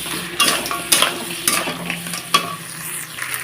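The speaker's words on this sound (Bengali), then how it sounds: "কড়াইয়ের মধ্যে খরমর করছি" Crab curry sizzles in a hot wok while a spatula stirs it in several firm, scraping strokes about half a second apart.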